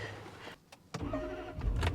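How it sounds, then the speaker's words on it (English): A cold Range Rover engine turns over and catches after a short pause, a close, sharp start followed by a steady low rumble as it settles into running. "She fires right up. And you can clearly see it's a cold engine."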